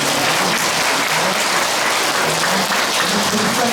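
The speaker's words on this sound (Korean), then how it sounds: "하나님께 영광의 박수 올려드립니다" Loud, sustained congregational applause at the end of a church worship service, many hands clapping in an even, unbroken roar throughout.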